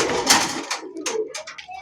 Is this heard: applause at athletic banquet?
no